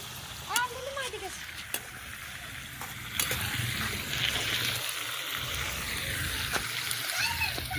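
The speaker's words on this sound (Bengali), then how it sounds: "এখানে আলুটা ভেজে নিচ্ছি আর এদিকে বেরেস্তা করে নিচ্ছি পেঁয়াজগুলোকে।" Potatoes fry in hot oil at an outdoor picnic cookout while onions crisp nearby, a continuous crackling sizzle with occasional splatter, and voices can be heard faintly in the background.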